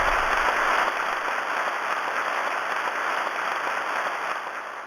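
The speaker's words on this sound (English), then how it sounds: "Wildly unnecessarily loud clapping." Loud audience clapping at a concert premiere, a dense, steady wash of applause that holds for several seconds and fades slightly at the end, with no talking over it.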